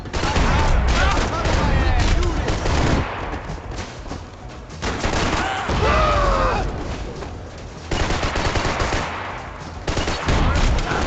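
Gunfire in Max Payne 3 comes in loud, rapid bursts of automatic shots, broken by short lulls, with a few heavier booms in the mix.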